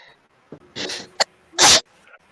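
One close, sharp human sneeze: a short inhaled buildup, a brief catch, then a loud explosive burst, all in a quiet room.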